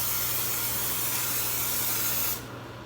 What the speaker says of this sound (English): I'm going to spray it with a little cooking spray.